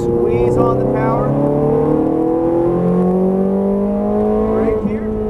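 A Ferrari F430 Scuderia accelerates hard on a race track, its engine note climbing through the gears in rising, loud tones with brief shifts, while a driving coach speaks over it.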